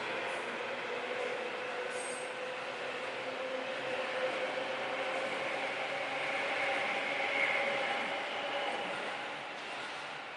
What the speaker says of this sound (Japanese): 今、踏切のところを通過しているのが東武東上線の電車です。